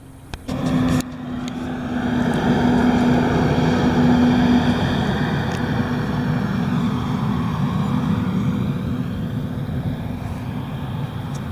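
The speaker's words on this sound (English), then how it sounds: "It's pretty cool to see the jets up here. It's amazing, the aerobatics that they do." Jet aircraft fly aerobatics overhead in the mountains near Grosse Scheidegg. After a brief knock at the start, a broad rumbling roar swells and holds steady at a distance, fading only slightly toward the end.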